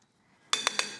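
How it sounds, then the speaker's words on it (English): A whisk strikes a bowl while an egg is beaten into a heavy cheese filling for Georgian khachapuri: three quick, bright metallic clinks close up, with a quiet lead-in and no talk. "Now I will just give that a quick whisk in the bowl"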